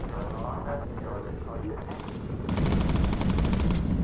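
Bomber gunners in the Bomber Crew video game open up with rapid, evenly spaced machine-gun bursts that grow loud and sustained partway through, over a constant engine drone and voices talking.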